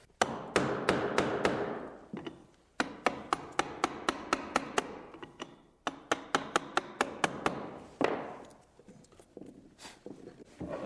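Sharp, repeated chisel strikes on wood cutting out the stopped end of a dado in a stair tread, a steady run of close taps and thuds in bursts with brief pauses between them.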